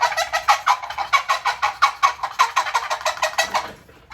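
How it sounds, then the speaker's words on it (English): A duck call blown in a rapid series of about twenty short, nasal quacks in a steady rhythm, close and loud, trailing off at the end with no talking. "So a real nice duck call."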